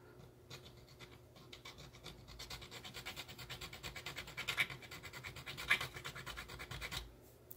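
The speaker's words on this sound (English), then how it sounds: "I'm going to take file, and I'm going to file a flat spot" A hand file rasps steadily back and forth across a small metal drive shaft for an HO scale model, held in pliers, making a flat spot; a fairly quiet, regular stroke rhythm with no talking.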